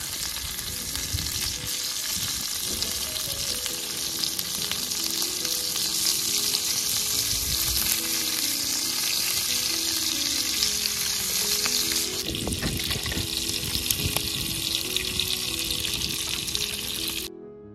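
Chicken tandoori fries in a pan at an outdoor cook in the forest, and the pieces are turned partway through. A loud, continuous sizzle runs throughout with scraping and clatter, and no one speaks.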